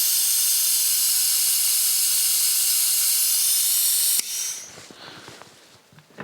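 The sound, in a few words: vacuum brake bleeder hissing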